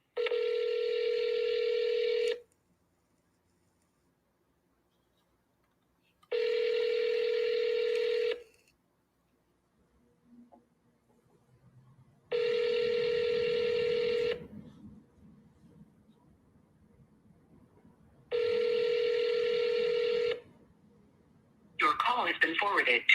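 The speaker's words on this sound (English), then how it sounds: "I'm gonna try to call her." Outgoing phone call dialed on a telephone: four evenly spaced bursts of ringback tone, each about two seconds long with silent gaps between them, and a faint bit of voice at the very end.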